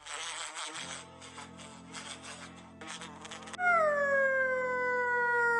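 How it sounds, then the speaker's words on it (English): A wasp buzzes in close, pulsing bursts for several seconds before a sustained tone takes over. "W is for wasp."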